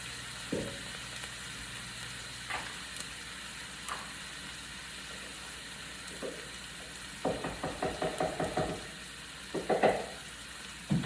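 Field Roast plant-based sausage and portobello mushrooms sauteing in a pan, a steady quiet sizzle with a few clinks and a short run of rhythmic taps partway through.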